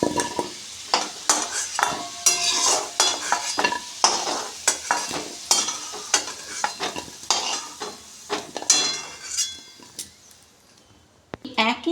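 Potatoes fry in hot oil and are stirred repeatedly, a continuous sizzle broken by sharp scraping strokes of a utensil against the pan, close and fairly loud throughout.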